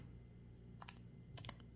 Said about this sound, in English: if I type this into the calculator